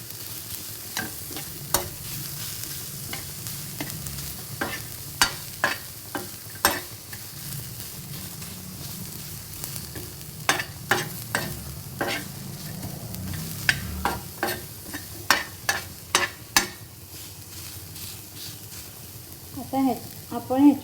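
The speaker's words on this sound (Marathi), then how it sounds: "कांदा पूर्ण भाजून जा असा लाल झाला की अजून थोडा होऊ दे" Onion browning in a pan for a spicy curry, with a constant sizzle under a long run of sharp spatula scrapes and taps, irregular and close, busiest toward the end.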